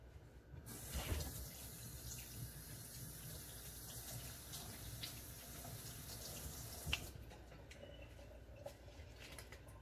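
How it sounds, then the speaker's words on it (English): Kitchen tap running steadily over leeks being rinsed in a sink, a continuous broadband water rush lasting about six seconds before the flow is shut off, followed by quieter drips and handling. "I'm just going to give this a quick wash just in case."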